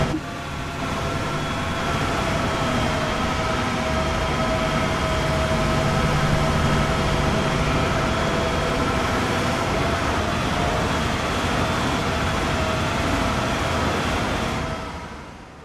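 Avanti West Coast Pendolino electric train running on the Down Fast line in Train Sim World 5, a steady loud rolling rumble with a sustained motor whine, continuous and even with no talk.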